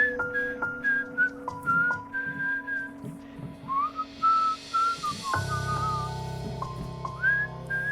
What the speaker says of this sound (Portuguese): começou a assobiar.